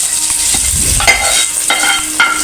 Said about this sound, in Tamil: இந்த சூட்டில் முந்திரி பருப்பு போட்டுருவோம். நல்லா பொரிஞ்சிச்சு.